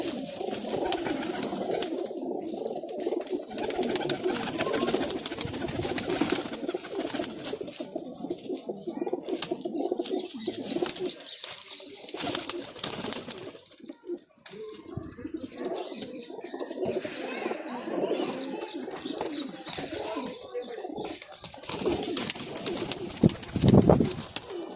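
Pigeons coo steadily throughout, a dense, layered chorus of several birds close by with soft chirps scattered among them, sustained without pause across the whole stretch.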